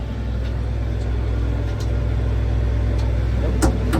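An Arcusin bale loader tractor with a three-range hydrostatic transmission drives along, its steady low engine drone and transmission whine constant and close, with a few faint clicks on top.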